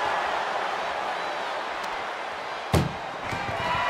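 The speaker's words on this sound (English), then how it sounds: "Trying to at least slam one door shut." An ambulance door slammed shut during a WWE SmackDown Extreme Rules ambulance match gives a single sharp, loud metallic bang over steady arena crowd noise, followed by a few smaller knocks.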